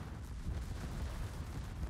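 Warship turret guns firing in the naval battle game World of Warships, heard as a dense, continuous low rumble of heavy booms that rolls on steadily without pause.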